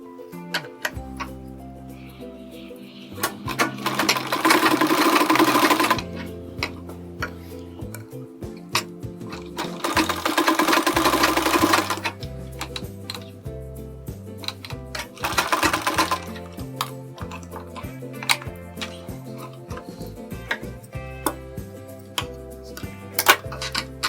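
A domestic sewing machine stitches a sleeve in bursts, its rapid mechanical clatter running several seconds at a time, stopping, then starting again, with quieter ticking and handling between runs.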